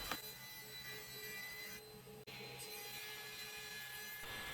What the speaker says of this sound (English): Then I'll just use the crosscut sled to lop the ends of these board off.